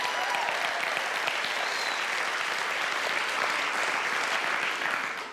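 Steady, dense applause from an audience at a motivational talk, filling the room at an even level throughout before easing off at the very end.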